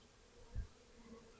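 A honey bee buzzes faintly near an open hive box. The soft drone swells briefly around the middle and then fades back into quiet.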